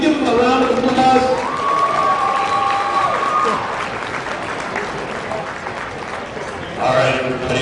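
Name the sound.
crowd applause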